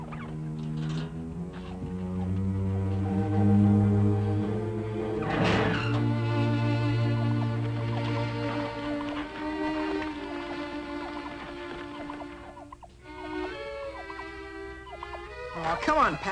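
A turkey gobbles in short warbling bursts among other animated sounds and music, with tones rising and falling over a busy background.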